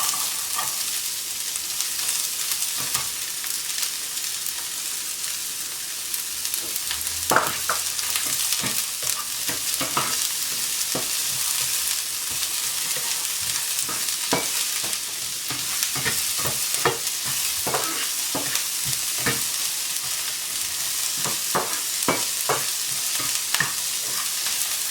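Onion and garlic fry in a pan for chicken enchiladas, a steady sizzle running throughout with repeated scraping stirs of a utensil against the pan.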